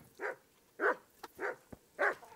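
A dog in Kingdom Come: Deliverance barks four times in an even rhythm at moderate distance, each bark short and gruff, with faint clicks between them.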